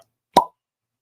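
A cork pops out of a 100-proof whiskey bottle with one sharp, close, loud pop that fades within a split second, followed by silence.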